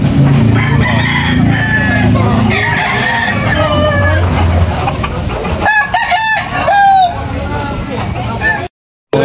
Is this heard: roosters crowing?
yes